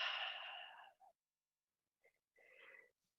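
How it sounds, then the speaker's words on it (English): A forceful breath pushed out during a yoga breathing exercise, one long breathy exhale lasting nearly a second, then silence and a shorter breathy sound after it. The sound is close and fairly soft. "squeeze all that breath out"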